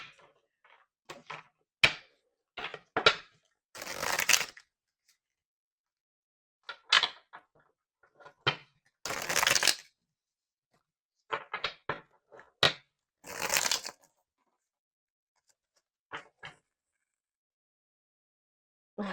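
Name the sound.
shuffling a deck of tarot cards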